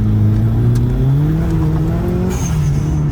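A Mitsubishi Evo 6 engine runs steadily under load while driving, a loud, close drone whose pitch climbs gradually before easing near the end, with no talk over it.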